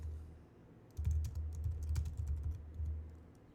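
Quick, soft clicks from a computer keyboard while typing code, a short close run of key presses after a moment of quiet.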